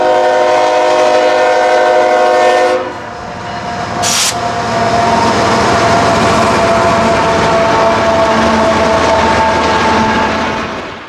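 CPKC freight train 181 passing close and loud, a steady rumble of locomotive and wagons after a long horn blast, with a brief sharp squeal partway through.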